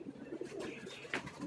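A pigeon coos softly from a rooftop in a few low, rounded calls, faint against outdoor background noise.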